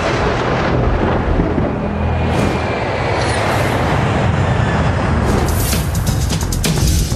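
Heavy rain hisses steadily while deep thunder rumbles underneath, swelling in rolling waves throughout.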